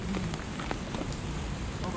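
Steady rain falling outdoors at Yehliu Geopark on the Taiwan coast, a continuous close hiss of drops on surfaces with faint background voices underneath.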